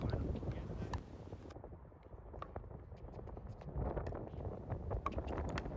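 Wind buffeting the microphone on an outdoor pickleball court, a continuous low rumbling roar with scattered light clicks and knocks throughout.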